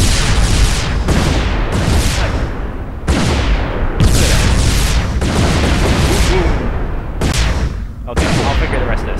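Heavy cannon barrages boom again and again in the space strategy game Sword of the Stars 2: Lords of Winter, loud and dense, with volleys restarting about every one to two seconds over a constant roar of battle.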